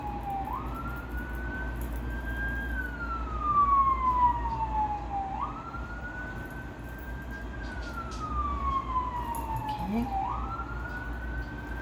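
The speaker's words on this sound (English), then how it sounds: "Sorry about the sirens in the background." Emergency vehicle sirens wail from an avenue outside, rising and falling in long repeated sweeps at moderate distance beneath a steady room and traffic hum.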